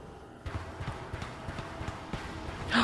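Rhythmic horse hoofbeats clip-clop at an even trot in the video game Mouthwashing, fairly close and moderately loud, with a short bright burst at the very end.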